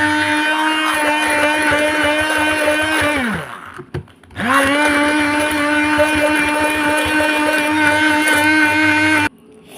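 An electric hand beater whipping sugar, flour and eggs in a bowl for a cream cake, a loud steady whine close by that winds down and stops near the middle, then spins back up and runs until it cuts off.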